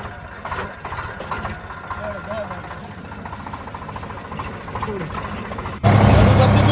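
A tractor engine idles low and steadily in a garlic field, with voices and background activity over it, then a louder, closer rumble surges in near the end.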